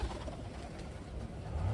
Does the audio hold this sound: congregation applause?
no